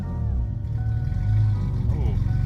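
A Toyota Supra MKIV engine revs under throttle, a steady loud low-pitched roar that swells midway and holds through the clip, with a person talking over it.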